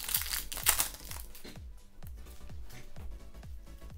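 Crinkling foil of a Pokémon Sword and Shield Shining Fates booster pack being torn and opened up close, with rustling bursts at the start and soft card shuffles after, no talking.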